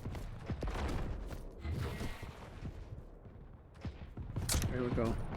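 Shotgun blasts and other weapon fire ring out in a fast team deathmatch shooter, sharp bursts at irregular moments amid clanking game sounds, with a commentator talking over them.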